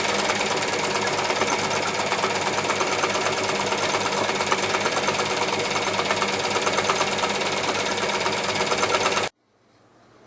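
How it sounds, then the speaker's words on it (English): A sewing machine runs fast and steady in free-motion stitching, sewing circles over fabric scraps, a loud even mechanical chatter that holds for about nine seconds, then cuts out abruptly to near silence. "I'm just literally free machining round and round in circles, just to hold down the edges of the fabrics"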